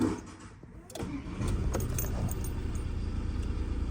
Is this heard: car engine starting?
yes